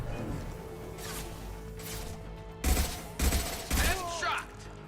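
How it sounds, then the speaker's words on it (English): Weapon fire from an impact shot in the video game Mass Effect 2: three or four loud, sharp bursts in quick succession after a stretch of quieter game ambience, with a trailing sweep at the end. "Firing an impact shot."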